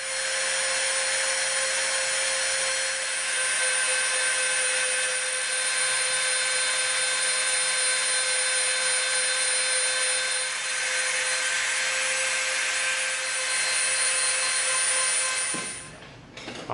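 A rotary tool fitted with a bullet-tip bit grinds into EVA foam, a steady loud high-pitched whine running unbroken for about fifteen seconds before spinning down abruptly at the end.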